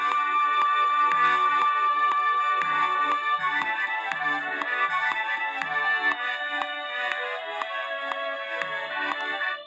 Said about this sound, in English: Let's say that Sousa was working on this piece and he wanted it at 120, which is sometimes considered march tempo.